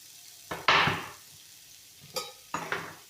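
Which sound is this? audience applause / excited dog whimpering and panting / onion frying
onion frying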